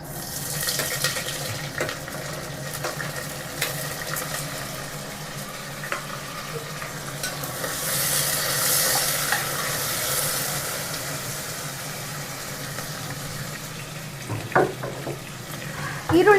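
Onions frying in hot oil for chicken biryani, a steady moderate sizzle with a rushing watery hiss, occasional clinks and a few louder clatters near the end.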